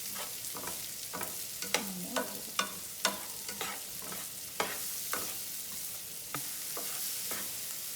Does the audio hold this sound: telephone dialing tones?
no